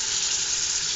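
Meat frying in a pan with no water added gives a steady, even sizzle, close and continuous, with no talking over it.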